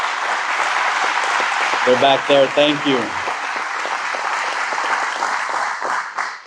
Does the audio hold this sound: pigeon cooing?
no